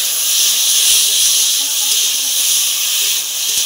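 Black mustard seeds and neem leaves sizzle in hot oil for a loud, steady hiss that stays constant throughout, with no talking.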